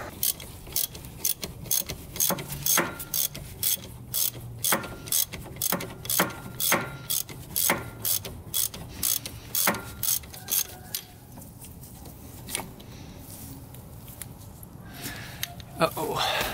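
A ratchet wrench clicks in repeated quick bursts while removing spark plugs from a seized, rusted Kawasaki Mule engine, close and crisp, with short pauses between strokes and some talk in the background.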